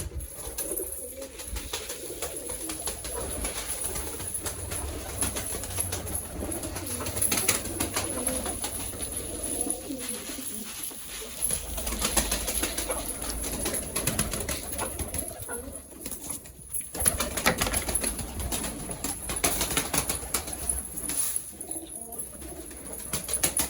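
Pigeons in a loft shared with chickens coo repeatedly nearby in soft, low murmurs, with occasional wing flaps and scattered rustling throughout.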